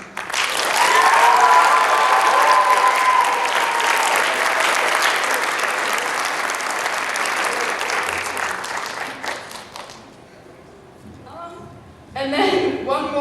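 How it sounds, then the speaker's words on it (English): Sustained applause from a large audience at a high school awards concert, loud and steady for about ten seconds, then dropping away before a voice speaks over a quieter room. "more big round of applause for our directors because they're incredible."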